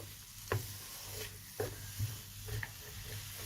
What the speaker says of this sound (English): So these are just sizzling very, very slowly.